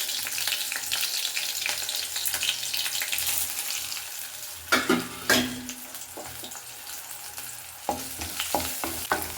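Whole spices such as pepper and cloves frying in oil for palak rice, a steady sizzle with sharp clinks of a spoon against the pan stirring them in several bursts.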